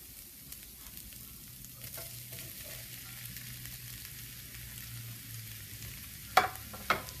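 Chicken fries with mixed vegetables in a pan for chicken fried rice, a soft steady sizzle running throughout, broken near the end by two sharp clinks of a utensil against the pan.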